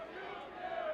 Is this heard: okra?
no